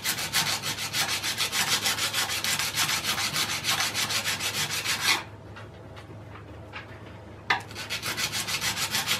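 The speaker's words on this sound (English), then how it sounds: "I'm just going to work it back and forth, trying to get the back side of this flattened out" A handplane iron is rubbed back and forth on a flat abrasive surface to flatten its back, giving a fast, even rasping scrub of rhythmic strokes that stops for about two seconds and then resumes.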